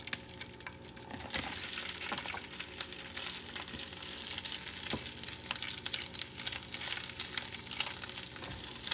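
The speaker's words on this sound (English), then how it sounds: "Once the butter melt, very simple. Going to start cooking the shrimp, right?" Shrimp, tails left on, cooks in melted butter in a pan, giving a steady close sizzle that runs throughout, broken by a few light clinks of utensils.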